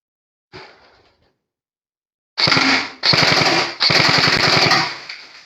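A Classic Army Nemesis double-barrel M4 airsoft gun fires one soft early shot, then three loud, rapid bursts of rattling automatic fire close to the listener, with no voices.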